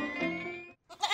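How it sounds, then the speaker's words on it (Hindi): A goat bleats loudly and close by, one long wavering call followed after a brief pause by a shorter, harsher bleat, with no talk around it. "पापा बकरी पकड़ने में हमारी हेल्प करो ना"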